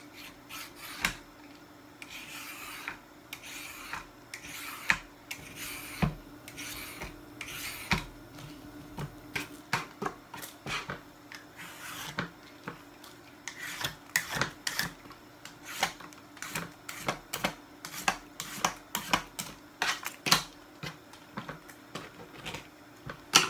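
A knife scrapes along a bottle gourd (lauki) as it is peeled, a series of short rasping strokes in an irregular rhythm, close and fairly quiet.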